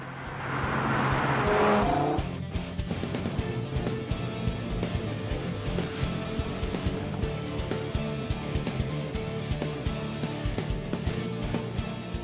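An Audi RS3 engine roars and revs, first a rising rasp, then a steady throbbing drone with rapid pulsing, loud and close.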